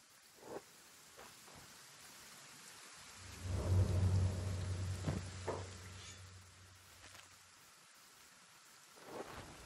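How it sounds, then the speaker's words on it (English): Acid rain falling with rolling thunder in the video game Kenshi: a steady, soft wash of rain with one long, deep rumble of thunder swelling in the middle and scattered small crackles. "So, because there is acid rain,"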